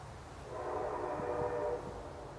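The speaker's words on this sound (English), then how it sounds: "That is a real train." A real train passing through the village of Sleepy Hollow, a rumbling roll that swells and fades over a couple of seconds, heard from a distance with a faint horn-like tone and no talk.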